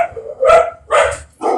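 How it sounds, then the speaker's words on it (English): A neighbor's dog being walked outside lets out three sharp barks in quick succession, loud and close with short silences between them. "She freaks out as the neighbor walks the dog."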